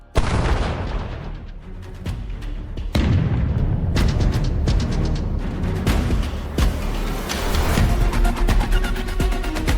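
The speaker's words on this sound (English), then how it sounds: "It fired at Russian positions with its 120mm cannon, creating explosions so powerful they shook the ground." Repeated heavy booms and blasts of a Leopard tank's 120mm cannon and explosions in combat in Ukraine, loud and close, with rumbling between impacts and no speech.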